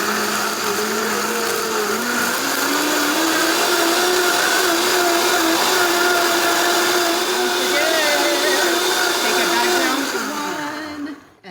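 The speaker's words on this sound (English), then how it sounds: "I can turn it on right now. Just on level 1, blend it up" Blender pureeing ratatouille sauce, a loud close motor whine that holds steady, rises and shifts in pitch as the speed climbs, then cuts off at the end.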